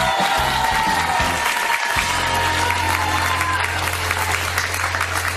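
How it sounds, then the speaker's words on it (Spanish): Studio audience applause fills a Colombian TV talk show set, loud and continuous throughout, a dense wash of clapping that dips briefly before swelling back. "Todos esos aplausos cargados de cariño, de respeto y de entusiasmo son para nuestro invitado de hoy."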